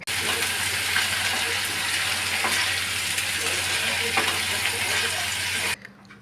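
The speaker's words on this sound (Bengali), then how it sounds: "ভালো করে মশলাটা কষিয়ে নিতে হবে, যাতে মশলার মধ্যে কাঁচা গন্ধ না থাকে।" Onion, ginger and garlic masala fries in hot oil, a dense steady sizzle that runs close and loud with faint stirring scrapes, then cuts off sharply near the end.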